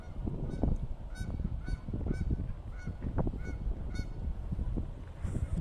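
A flock of geese honks repeatedly outdoors at a park in hot weather, overlapping calls at a moderate distance over steady wind and low rumbling background noise.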